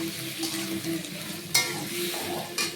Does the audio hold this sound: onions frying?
yes